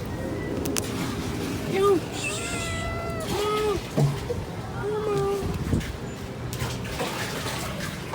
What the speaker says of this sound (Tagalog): Ito pala yung pusa namin nakakulong